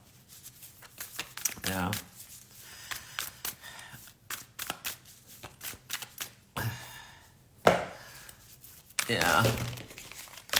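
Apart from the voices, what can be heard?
shuffling tarot cards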